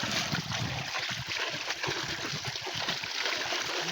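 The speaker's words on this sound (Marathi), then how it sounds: "पाणी येते बरं" Water drains and trickles steadily through a sari used as a net for catching freshwater prawns in a stream, a continuous close-up splashing wash with no talk.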